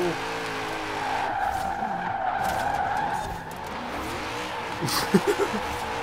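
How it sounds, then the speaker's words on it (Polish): A BMW M5 E39 drifts in Forza Horizon 3, tires squealing in a long sustained skid over a droning engine, with a few short squeaks near the end while someone talks excitedly throughout. "Driftem ładnie, akurat ten zakręt fajnie mi wyszedł."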